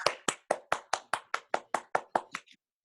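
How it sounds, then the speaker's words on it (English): Clapping in a steady unison rhythm from an audience at a live microplay festival: about twelve sharp, evenly spaced claps, close and crisp, that stop abruptly, leaving silence. "Good clapping, too."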